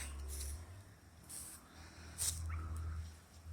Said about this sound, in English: Keep hearing like a dog going, oh, oh.